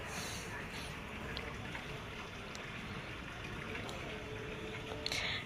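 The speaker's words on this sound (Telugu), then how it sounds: "ఆ వాటర్ సౌండ్ వింటే మనసుకి ఎంతో హాయిగా ఉంటుంది కదా." A small garden waterfall pours steadily, its water rushing and splashing in one continuous, even wash of sound from start to finish, with no talk over it.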